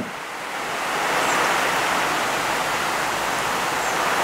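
Heavy rain pours steadily outside a backyard where a meal of Khmer-style spicy mixed noodles with salad and radish is being eaten, a dense, continuous hiss that swells in the first second and then holds loud and even with no voices.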